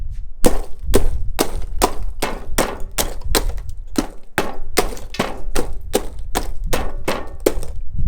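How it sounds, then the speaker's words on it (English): Glass being smashed with a hammer: about fifteen sharp, bright impacts in a steady rapid rhythm, each with a crackling shatter, loud and close with no talk. "She's going to help me film me breaking the glass."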